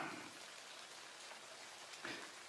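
Steady rain patters as a faint, even hiss, with a couple of slightly louder drop splashes, and no talking.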